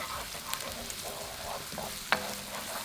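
Onions softening in melted butter in a pan give a steady close sizzle and crackle, broken by a few scrapes of stirring and one sharp clink near the end, with no talking.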